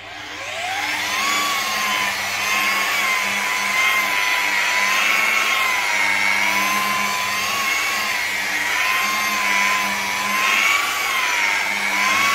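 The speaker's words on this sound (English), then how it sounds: "it's just worth just tilting the buffer up a bit and keeping it moving a bit quicker" A car paint buffer polishing bodywork whirs continuously at close range, holding a steady high whine that wavers slightly as it moves across the panel, with no voices.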